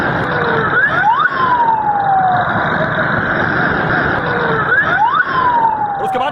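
A loud ambulance siren wails, sweeping up and down in two long cycles over a steady traffic rumble.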